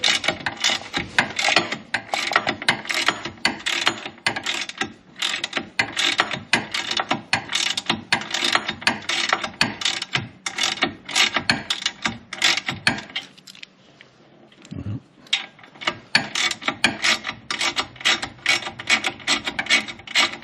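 Bolts on a Can-Am Canyon XT are loosened with a ratchet, producing rapid, repeated close-up clicking and rasping strokes in steady bursts, with a short pause partway through before the ratcheting resumes.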